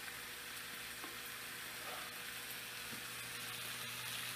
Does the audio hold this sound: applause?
no